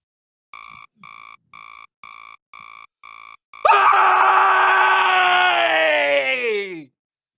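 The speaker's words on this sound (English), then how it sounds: "when I wake up in the morning, I have a habit of screaming before I do anything else" A person letting out a long morning scream, loud and close, lasting about three seconds and tapering off, preceded by a series of six short, evenly spaced electronic beeps.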